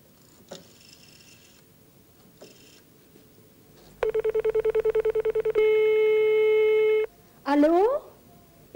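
Public coin telephone in France: a rapid run of dialing tones, then a steady held tone and a short rising tone, loud and close, with faint background murmur before the dialing starts.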